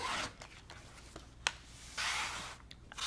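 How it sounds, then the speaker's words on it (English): Fabric is cut into a 6-inch strip for a quilt, with close, soft scraping and rasping strokes in short bursts and sharp ticks between them, no talk. "So I'm going to cut a 6-inch strip."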